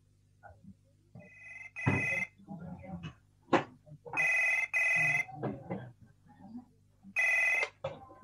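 A telephone rings in repeated bursts of a bright electronic bell, roughly a second each with pauses between them, over a quiet background broken by scattered soft noises.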